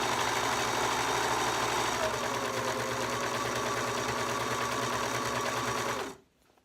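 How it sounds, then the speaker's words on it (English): A serger sews clear elastic into the waistband of tights, running in a steady, fast mechanical whir for about six seconds before stopping abruptly into quiet. "I'm just serging the clear elastic directly in without cutting anything off at all"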